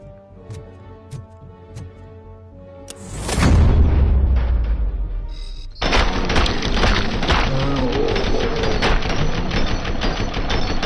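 A grenade goes off in RoboCop: Rogue City with a heavy, close boom and crashing debris. Sharp clicks and tones come before it, and dense loud combat noise follows.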